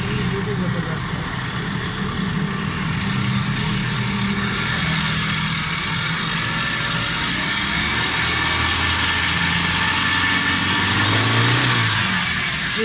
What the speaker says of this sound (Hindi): माशाल्लाह गाड़ी स्टार्ट है।